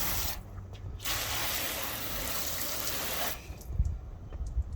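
Water sprayed from a hose onto car tires coated with Adam's and Turtle Wax graphene tire shine, a loud steady hissing spray lasting a few seconds, followed by quieter dripping and handling sounds.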